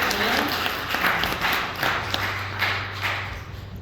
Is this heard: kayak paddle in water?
no